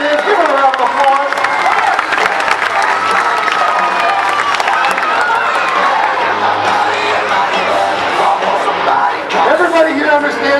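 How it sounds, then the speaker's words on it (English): A fair crowd at a martial arts demonstration cheers, whoops and applauds loudly and continuously, a dense close roar of clapping and shouting voices lasting throughout. "Give her a round of applause."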